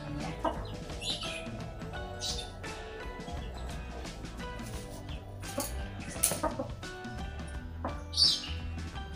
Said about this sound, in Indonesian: Ini teman-teman ayamnya.